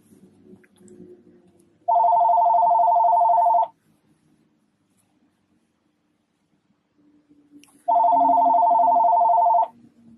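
A telephone rings twice in electronic trills, each lasting about two seconds with a long pause between them, clear and fairly close in an otherwise quiet room.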